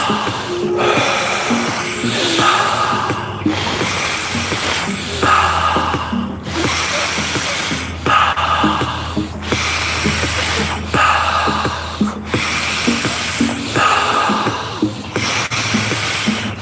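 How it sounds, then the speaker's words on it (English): Rapid, forceful rhythmic breathing exercise of the alkaline breathing kind, a steady run of loud, close, hissing inhale-exhale bursts repeating about every second with no talk. "Good, powerful breaths."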